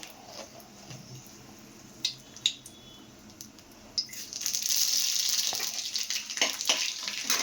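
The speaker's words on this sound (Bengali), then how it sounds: "এদিকে তেল গরম করে দিয়ে দেবো এবার শুকনো লঙ্কা, পাঁচফোড়ন" Dried red chilies and panch phoron hit hot oil midway, bursting into a loud, close, continuous sizzle with crackling pops after a quieter stretch of scattered kitchen clatter.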